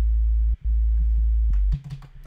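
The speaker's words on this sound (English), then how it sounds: "So it's just a simple sine wave." A simple, unprocessed sine-wave sub bass from a Reason Maelstrom synth for a dubstep bass layer: a deep, steady low hum that briefly drops out once, then stops, followed by faint clicks.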